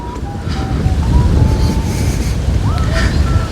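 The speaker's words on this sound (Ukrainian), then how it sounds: "Не знаю, чи чуєте ви мене з цим вітром, бо я вже сама себе не чую" Strong outdoor wind buffets the microphone in a loud, steady low roar for the whole stretch, with faint tones and chirps thinly audible above it.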